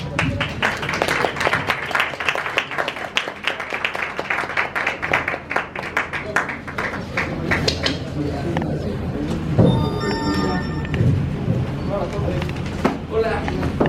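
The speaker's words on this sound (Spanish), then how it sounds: "quisiera pedirle que recibamos con un aplauso al señor Alex Intec." Audience at a press conference gives a burst of close, brisk applause welcoming a speaker, tapering off after several seconds into chatter and room noise.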